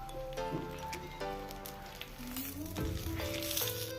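Karimeen fish wrapped in banana leaf roasts on a hot pan, giving a steady close sizzle with a few soft pops, while background music plays throughout.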